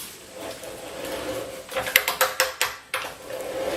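Pipe threader cutters biting into steel pipe, turned by hand against a pipe wrench: a rapid series of sharp metallic clicks and ratcheting scrapes, close and distinct over a low background hum.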